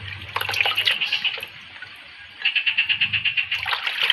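Water poured out for washing: rhythmic splashing gushes come in two runs separated by a quieter pause of about a second, close and fairly loud.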